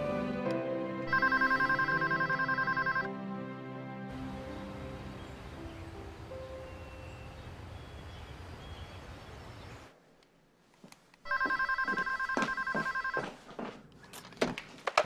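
A telephone ringing while a call is placed, two bursts of repeated electronic ring tones, moderately loud and close, separated by a quieter stretch of room noise.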